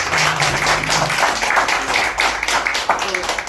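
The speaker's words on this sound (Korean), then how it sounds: "박수 한 번 좀 쳐주시죠" Audience applause at a year-end gathering and installation ceremony, brief scattered clapping mixed with murmuring voices and a nearby speaker.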